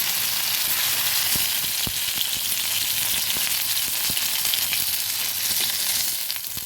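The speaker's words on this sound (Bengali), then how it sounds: "মাছগুলো কিন্তু বেশি ভাজিনি হালকা ভেজে নিয়েছি" Fish pieces lightly frying in hot oil in a pan, a constant close sizzle with scattered sharp pops and crackles, no voices.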